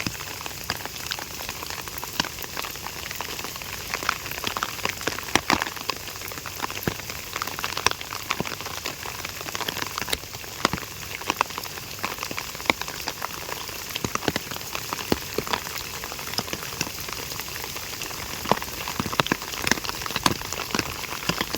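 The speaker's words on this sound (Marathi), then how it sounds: "पाऊस पण जाम आलाय" Steady heavy monsoon rain hisses and patters outdoors, with scattered louder drops striking nearby surfaces throughout.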